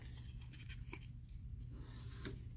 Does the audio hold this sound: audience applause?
no